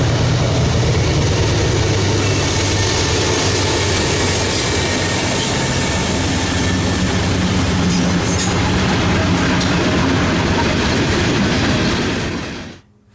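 Heavy train with several locomotives hauled toward scrap at President's Island, rumbling past close and loud with steady rolling rail noise and wheel clatter for most of the stretch, fading quickly at the end.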